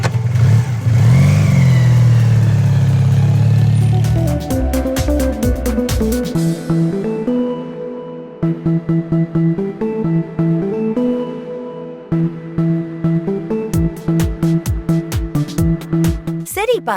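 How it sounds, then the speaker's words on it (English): Motorcycle engine revving, a loud close rumble that rises and falls through several throttle blips, then settles into a choppy, pulsing idle before sharp rev bursts return at the end. "Motorcycle."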